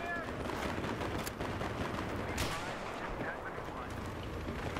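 Battlefield 3 gunfire, a dense run of sharp, distant cracks and blasts in a busy battle mix, with occasional louder shots standing out and no clear talk.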